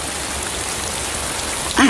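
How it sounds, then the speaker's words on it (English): Steady rain patters and hisses on a surface, an even wash of drops throughout, with a brief tonal sound at the very end. "I wish it would stop raining."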